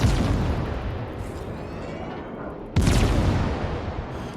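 Ship guns firing in World of Warships, two deep booming salvos with long rumbling tails, the second striking sharply partway through, loud and close with no speech.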